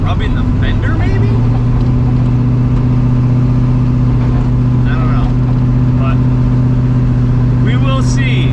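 A car on a short test drive, its engine holding a steady loud hum throughout with faint wind and road noise, while someone talks over it.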